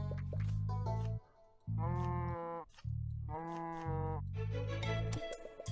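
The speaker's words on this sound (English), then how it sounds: "Suppose I can go with the giant cow." Giant cow in the video game Terracards lets out a loud, drawn-out synthetic moo, three harmonic calls separated by low rumbling pulses, heard alone without talk.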